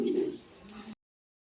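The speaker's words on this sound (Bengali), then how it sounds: "কবুতরগুলো দেখতেই পাচ্ছেন কতটা অ্যাক্টিভ এবং কোয়ালিটিফুল" Racer pigeons coo softly in a brief, close call that stops abruptly after about a second.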